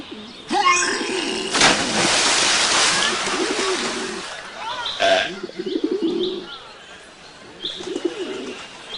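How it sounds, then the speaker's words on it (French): Pigeons coo in repeated low, throaty phrases, close and fairly loud, mixed with wing flutters, bursts of noise and some chirping. "Faites gaffe aux pigeons."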